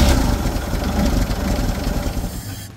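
A 1955 Chevy engine, revived after 25 years in scrap, idling steadily with a loud, rough low rumble and hiss, close by and without talk, easing off slightly at the very end.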